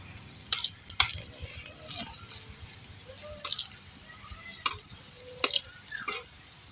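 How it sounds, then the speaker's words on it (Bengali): Banana biscuit pitha frying in hot oil in a pan, a continuous close sizzle broken by sharp crackles and pops as the cakes are stirred and turned, with no talking. "পিঠেগুলো ভেজে নেব"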